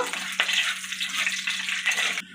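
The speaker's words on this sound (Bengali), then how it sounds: "তেলটা গরম হয়ে এসেছে আমি এই শুকনো লঙ্কা আর পাঁচফোড়নটা দিয়ে দিলাম দিয়ে একটু নেড়ে ফেলে নেব" Dried red chillies and panch phoron spit and crackle in hot oil, a dense, close hiss with a few sharp pops and scrapes of stirring, then an abrupt cut.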